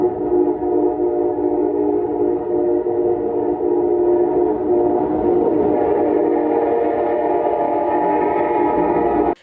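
A locomotive horn blows one long, loud, steady multi-chime blast, sustained close by for the whole stretch without a break.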